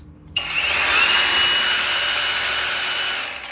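A Makita 120-size angle grinder spins up after a brief quiet start and then runs at steady high speed, a loud sustained whine with a bright metallic edge, heard alone with no talking.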